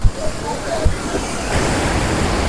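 Water crashing down at Kempty Falls waterfall in Mussoorie, a loud, dense, continuous roar that stays close and steady throughout, with a few brief knocks at the start.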